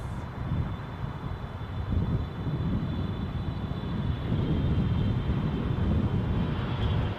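An All Nippon Airways airliner at London Heathrow, a steady distant engine roar with low rumble and wind buffeting, no voices.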